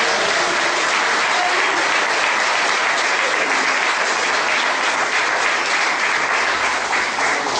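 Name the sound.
applause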